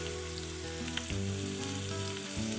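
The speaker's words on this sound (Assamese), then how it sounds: "এতিয়া মই ক্যাপসিকামখিনি বেলেগ এটা কেৰাহীত ফ্ৰাই কৰি ল'ম" Capsicum fries in a separate wok for paneer masala, giving a steady, close sizzle over a low, constant hum. The sizzle runs unbroken, with a few slight shifts in tone.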